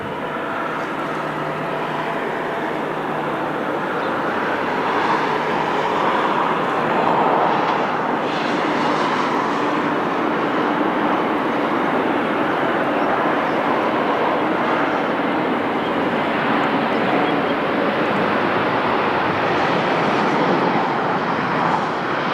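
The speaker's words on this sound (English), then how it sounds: "It's a long-range Airbus A321 Neo." A TAP Air Portugal Airbus A321neo from Munich at Lisbon Airport, its engines making a loud, sustained roar that swells and slowly fades as it passes, with no voices.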